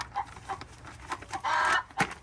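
A hen sings her egg song in a cold-weather backyard flock, giving a run of rhythmic clucks and one longer drawn-out call. The sound is fairly faint and comes from a short distance with no talk.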